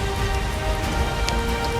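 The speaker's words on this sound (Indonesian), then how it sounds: "Hujan menyentuh rambut dan bahunya." Rain falling steadily, a dense even patter of drops striking surfaces, continuous and close with a low background rumble and no voices.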